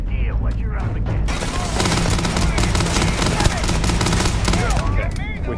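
Rapid automatic gunfire from a firefight in Starfield pours out in a dense, sustained burst, loud and close. Other combat noise surrounds it, and a voice speaks briefly at the start.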